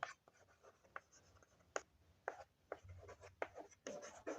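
Pen or chalk strokes during a written math solution for a Class 10 mensuration problem: faint, close scratchy marks in irregular short bursts with pauses between them and no speech.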